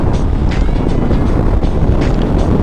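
Loud, steady wind roar buffeting the microphone throughout a ride on a 2022 Harley-Davidson Fat Bob motorcycle without a windscreen, a constant rushing blast with no voices.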